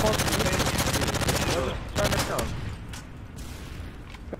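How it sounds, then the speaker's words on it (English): Dense rapid gunfire rattles loudly through the first half in a Dome capture-the-flag video game match, then thins to a few scattered shots as excited players talk over it. "He's shooting at me?"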